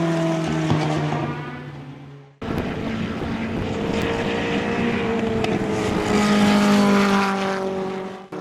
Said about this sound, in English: Jamie Bateman flies by in the other Lola T492 at full song